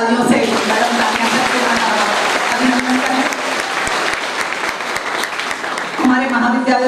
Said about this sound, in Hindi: एक बार फिर से जोरदार तालियों से